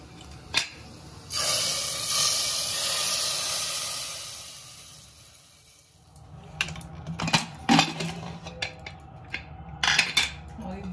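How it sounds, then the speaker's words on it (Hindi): Hot tempering for a moong and chana mixed dal hisses loudly in a pan for a few seconds as it hits, fading out, followed by clinks and scrapes of a spoon stirring against the pot. "और इसमें तड़का लगाते हैं।"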